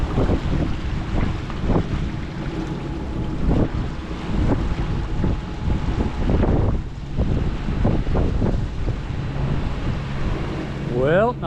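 A boat motoring across near-calm water in the Straits of Mackinac region, bound for an anchorage at South Manitou Island, gives a steady low engine drone under wind buffeting the microphone, with water sloshing against the hull throughout.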